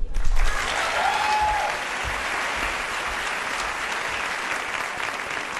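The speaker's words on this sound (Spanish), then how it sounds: "El aplauso para Paula Reca" Theatre awards audience applauding, a full hall of steady clapping that swells briefly at the start and then holds evenly, with a faint whistle early on.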